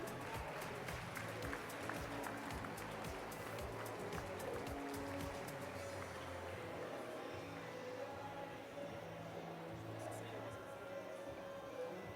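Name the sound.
audience applause at a Franches-Montagnes foal auction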